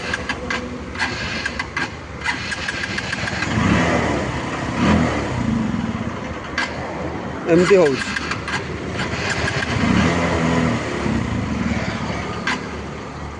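A motorcycle engine cranks repeatedly without catching, a rough, uneven churning that runs the whole stretch close by, with someone talking over it.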